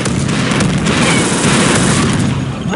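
Rocket explosions and weapon fire in a capture-the-flag match of Unreal Tournament 2004, a dense, loud, continuous barrage of booms and bursts with no pauses throughout.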